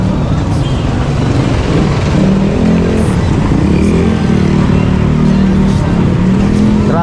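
Dense road traffic with cars and motorcycles passing on a street after a typhoon, a loud continuous rumble of engines and revving that stays steady and close for the whole stretch.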